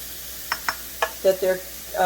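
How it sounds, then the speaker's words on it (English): Onions cooking in a pan, with a few soft clicks and scrapes of stirring over a faint steady sizzle, close and fairly quiet. "I'm going to go ahead and cook up some onions to add to our lentils"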